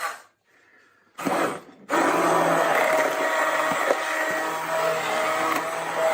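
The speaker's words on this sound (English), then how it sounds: "Emulsion blenders are amazing." An immersion stick blender whirs steadily at close range after a brief start-stop burst, a continuous motor drone with a few faint knocks, no talking.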